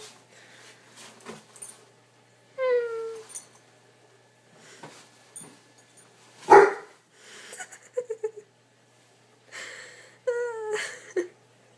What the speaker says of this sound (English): This is my dog, and she's paranoid at the ceiling fan.